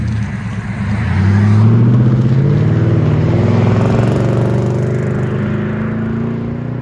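A 2005 Nissan Titan 5.6L V8 fitted with an 18-inch MagnaFlow muffler, revving up to a deep, steady exhaust rumble that swells loud and close, then holds a sustained droning tone.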